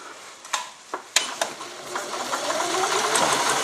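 An Elna 20 sewing machine runs close by with a quick, steady mechanical whir, broken early on by a few sharp clicks and clacks from the mechanism before settling into continuous stitching.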